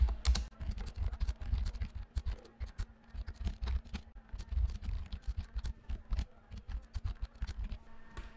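Continuous typing on a computer keyboard while writing CSS code, with steady, close clicks of keys in irregular bursts for several seconds, no talking.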